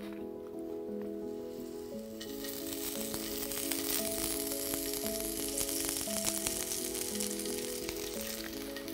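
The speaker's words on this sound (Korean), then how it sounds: "자, 마늘이 익는 동안" Smashed, roughly cut garlic cloves fry in a generous pour of olive oil, giving a steady crackling sizzle that swells after the first couple of seconds and runs continuously under soft background music.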